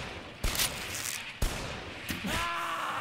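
Machine gun fire in a video game's insurgent attack on a workshop: a few loud, sharp bursts spaced about a second apart, close and harsh, followed by a ringing tail.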